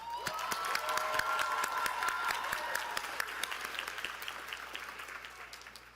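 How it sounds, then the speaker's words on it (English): A high school graduation crowd applauding and cheering, with whoops and a whistle-like tone early on, the clapping steady then thinning and fading toward the end. "Graduates, look at your people and let's give them the biggest round of applause."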